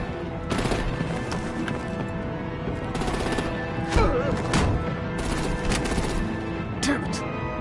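Rapid machine-gun fire rattles continuously through a Batman Telltale game scene. Dense bursts of shots and crashes fill the mix, and voices shout over the gunfire.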